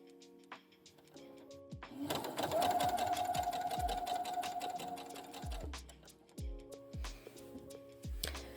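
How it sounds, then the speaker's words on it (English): Sewing machine stitching ribbon along a hem edge, starting in a few short bursts, then running steadily for about four seconds before returning to brief stop-start stitches, close and clear in a quiet room. "To sew, you're going to sew close to the edge of the raw edge and the ribbon"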